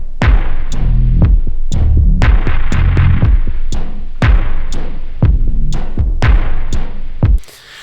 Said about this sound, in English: the live drums plus the track at half speed sounds like this